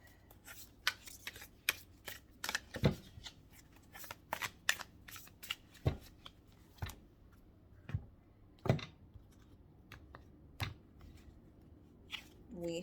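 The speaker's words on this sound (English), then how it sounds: "Y'all saw me shuffle." Tarot cards shuffled by hand in a quiet room, giving a series of soft riffling snaps and taps at an irregular pace, close and fairly faint, with no talking.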